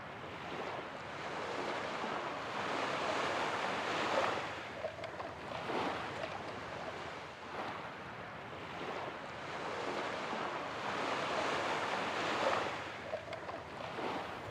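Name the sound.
ocean waves and wind at sea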